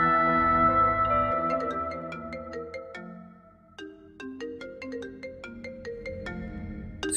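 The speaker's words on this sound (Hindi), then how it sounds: "सुबिया का फोन" A phone ringtone in a TV drama plays a bright melodic tune of stepped, chiming notes, clear and alone with no talking.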